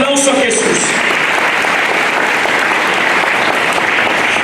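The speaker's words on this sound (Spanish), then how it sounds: "Dele aplauso a Jesús." Church congregation clapping loudly and continuously in praise, a dense wash of applause with a brief voice at the start.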